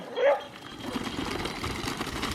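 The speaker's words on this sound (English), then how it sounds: "what a little dog" A small dog gives a single short, high yip-like bark near the start, followed by a steady low engine rumble and background noise.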